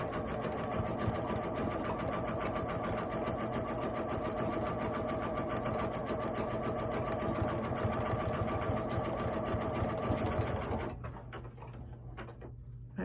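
Sewing machine stitching fabric while making odd noises, a loud, steady rapid whirring that runs for about eleven seconds, then stops abruptly, leaving a low hum with a few faint clicks.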